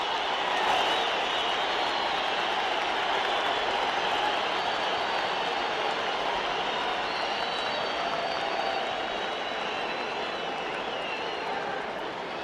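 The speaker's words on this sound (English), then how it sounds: "listen to this crowd at Madison Square Garden in New York" A large boxing crowd roars inside Madison Square Garden in New York, a steady, dense wash of cheering and applause that holds at full level without a break.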